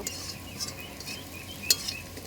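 Onion and garlic frying in a wok, a soft steady sizzle with light scraping and stirring of a utensil against the pan, close and continuous with one sharper clink near the end.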